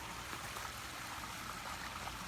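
Water runs steadily into a pond filter, a continuous soft trickling wash that stays even throughout, close by with no voices.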